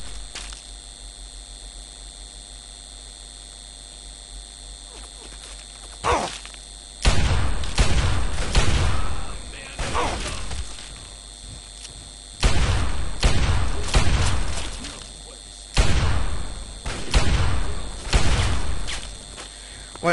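Gunfire during a Fallout 3 firefight in the Museum of Technology, heard as repeated loud bursts of shots and impacts in clusters after a quieter stretch, with a steady background hum throughout.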